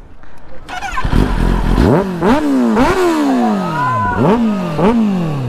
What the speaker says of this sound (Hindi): बाइक की तो एक बार रेव करते हैं आवाज़ सुनाते हैं